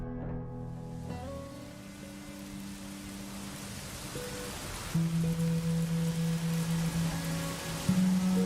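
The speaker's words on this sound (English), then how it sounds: "We see the rain starts as they're walking through the forest" Rain falls steadily through a forest as a broad, even hiss, with sustained musical tones layered over it that grow stronger halfway through.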